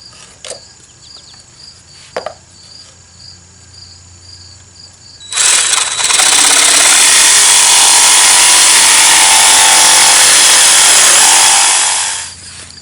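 Power saw cutting wood pieces diagonally, a loud sustained whining cut lasting several seconds after a quiet stretch with a few light knocks, then stopping.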